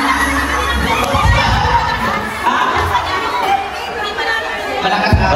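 A loud crowd of children shouting and chattering together at an outdoor feeding program, a dense, continuous babble with voices rising and falling throughout.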